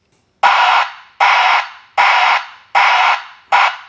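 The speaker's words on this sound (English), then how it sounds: "So let me go ahead and turn this alarm on." A loud 107 dB broadband vehicle backup alarm beeps five times in a steady rhythm, each harsh broadband burst cutting off sharply with a short tail, recorded indoors in a studio.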